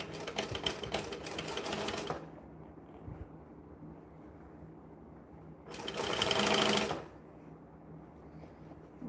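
A sewing machine stitches a bag seam in two fast, whirring bursts, about two seconds and then just over one second long, close up, with quiet room noise between runs.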